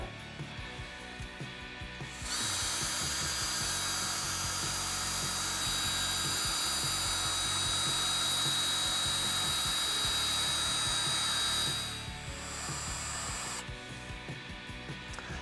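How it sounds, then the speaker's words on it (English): A power drill mixes a two-part PermaGuard Plus epoxy garage floor coating, its paddle whirring in a loud, steady high-pitched drone for about nine seconds before stopping, with quieter handling noise before and after. "We're gonna mix this for 2 minutes with a drill."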